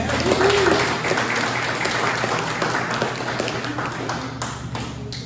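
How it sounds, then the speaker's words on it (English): Applause for guest speakers at a Democrat club meeting, a continuous wash of clapping from the room that starts strongest and slowly fades, with a few sharper taps near the end. "Can we get one more round of applause for our guest speakers?"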